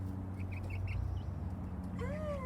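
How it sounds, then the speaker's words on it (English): Chickens in a backyard coop cluck softly in short, scattered calls over a low steady background hum, with a higher chirp near the end. "And you little fluffy chicken."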